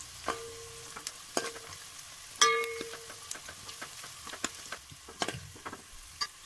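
Onions frying in oil while being stirred until brown, a soft background sizzle punctuated by irregular spoon taps and scrapes on the pan, one louder ringing clink, fairly quiet and close, with no talk.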